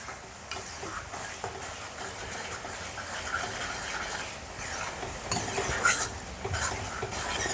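Tomato paste sautéing in a pan for a village-style eel fish curry, a steady soft sizzle with occasional spoon scrapes and stirring clinks, close and moderately quiet throughout.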